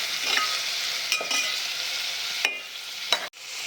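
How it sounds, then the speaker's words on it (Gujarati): Millet khichdi with carrots, tomatoes and potatoes being stirred in a hot pan: a steady sizzle with soft scraping spoon strokes, a few sharper scrapes near the end, and no talk. "બટાટા એડ કરીશું. મિક્સ કરી દઈશું."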